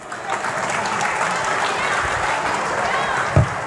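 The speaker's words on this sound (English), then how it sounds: "Big round of applause for our commentators bringing all of this action to life" A crowd at a shearing championship evening applauds steadily, a dense wash of clapping that holds at an even level, with faint voices mixed in.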